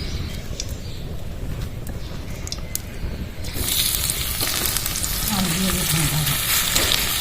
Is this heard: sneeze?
no